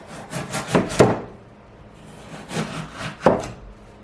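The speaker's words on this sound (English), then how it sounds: "cut it into slices, which I could then peel" A knife slicing through a hard raw rutabaga, with a few crunchy, woody cuts in two clusters separated by a short quiet gap, close by and without speech.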